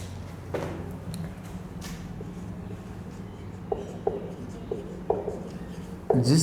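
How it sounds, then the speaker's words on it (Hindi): Marker or chalk writing on a board during a Hindi physics lesson, a soft continuous scratchy rubbing with brief louder strokes near the end, close and alone with a low steady hum underneath. "मैं इस पॉइंट को वापस ऊपर लिखता हूँ"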